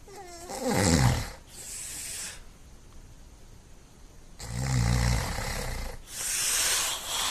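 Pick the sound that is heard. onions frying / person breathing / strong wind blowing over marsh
person breathing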